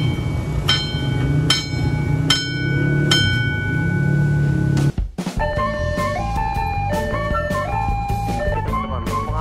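Railway crossing bells ding steadily while the Kuto Jaya Utara train rumbles past close by at a crossing in Cilegon, Banten, followed by a rising series of horn-like tones over continued rolling noise.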